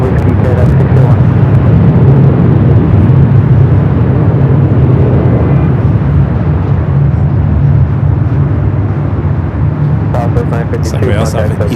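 An EVA Air Boeing 777-300ER taking off at LAX sends out a loud, continuous jet roar that rumbles on steadily throughout, with a voice talking over it.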